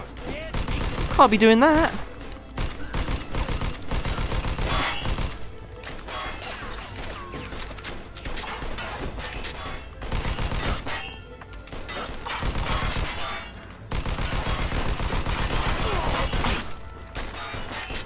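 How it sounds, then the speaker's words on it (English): Gunfire during a street shootout in Mafia 2, with dense bursts of rapid shots, crashing impacts and breaking glass rattling on and off for long stretches, while someone talks briefly between volleys. "Shit, I'm shooting at the wrong people."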